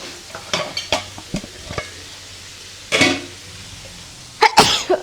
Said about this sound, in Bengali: আমাদের পেঁয়াজের সব মশলা তেল দিয়ে রান্না হচ্ছে।